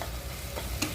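Onions being stir-fried in oil for palak paneer, a soft continuous sizzle with a couple of light spoon scrapes, close and brief, with no voices.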